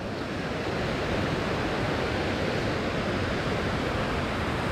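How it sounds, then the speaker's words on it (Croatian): Water from Pliva lake rushing through the mill channels at Jajce, Bosnia, a steady loud broadband roar with no pauses, close and continuous, with no voices. "voda dolazi iz velikog Plivskog jezera, tu dolje kanalima ovim, pokreće mlinove"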